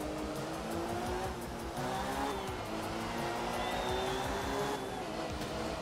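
A rally car drifts through turns in art of rally, its engine droning steadily while tires squeal and skid in long, wavering whines over the loud, continuous motor noise.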